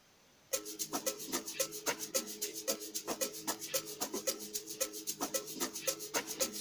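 Hot purity strings doubled on a higher and a lower note in FL Studio Mobile start suddenly after a short quiet lead-in, held chords running under a busy, evenly pulsing rhythm of crisp, shaker-like hits for several seconds.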